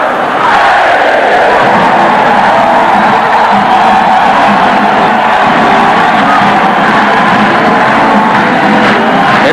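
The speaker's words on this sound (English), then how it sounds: "the crowd is singing the A&M fight song" A packed Texas A&M baseball crowd in a 1989 game against Texas, with thousands of voices joining in the fight song as a loud, continuous roar that fills the stadium throughout.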